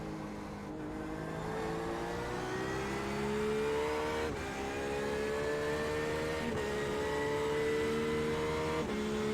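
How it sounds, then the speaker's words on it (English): LMP prototype race car in the iRacing game, its engine droning steadily with repeated gear-shift dips as it draws closer, heard alone and fairly loud. "LMP coming."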